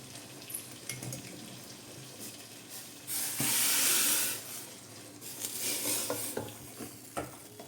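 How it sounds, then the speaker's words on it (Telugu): Water being poured into a pot of simmering prawn biryani, a loud rushing splash in the middle over ongoing bubbling and clinks of a utensil against the pot. "ఇప్పుడు ఈ వాటర్ని అందులో పోసేద్దాము"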